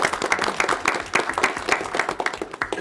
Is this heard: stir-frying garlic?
no